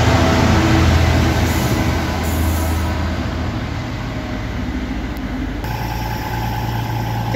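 An East Midlands Railway diesel train, class 222 units, idles at a station before departure. The engine hum is loud, steady and close, with a low rumble that shifts slightly partway through.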